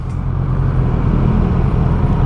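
A Honda CB650R motorcycle fitted with a Drift full exhaust drones loud and steady at a constant engine speed, a dense low rumble with no pauses.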